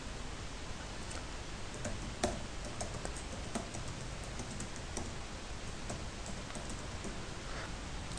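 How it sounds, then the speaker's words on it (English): Typing on a computer keyboard, a continuous stream of light, quick key clicks at an uneven rhythm over a steady background hiss, close and fairly quiet. "Let me type here something."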